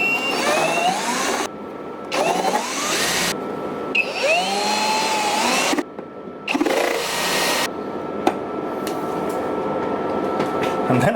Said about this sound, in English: I'm gonna drill them because they need to be there.